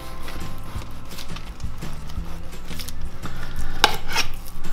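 Knife cutting pork in half on a board, a close series of rhythmic knocks and taps with clattering kitchen noise, no talking.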